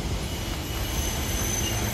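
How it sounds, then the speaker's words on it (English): A Northern Rail Pacer train rolls along the track with a steady, loud rumble and a faint high whine, the noise constant and close throughout. "Oh, Brendan, it's a pacer."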